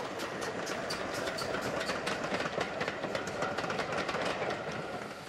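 A GWR Modified Hall class steam locomotive in late-1940s lined black livery runs along the line, giving a steady rhythmic rumble with repeated chuffs and a clattering rail texture, heard at moderate distance and fairly quiet.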